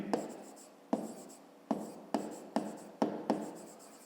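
A pen writes on paper in short bursts, each stroke starting with a sharp tap and fading into soft scratching, about seven strokes in a quiet room with no talking.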